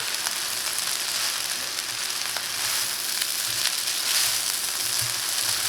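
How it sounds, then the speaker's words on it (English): Garlic and seasoning sizzle and crackle in a hot pan while being stirred, a continuous close frying hiss with occasional scraping and shuffling, no one talking. "I'm going to go ahead and add in my garlic, my seasoning, and I'm going to mix that all together"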